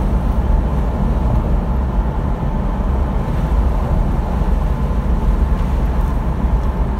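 Steady, loud road and wind roar inside a car with its windows open, travelling the PR-340 highway, a continuous broadband rush with no breaks throughout.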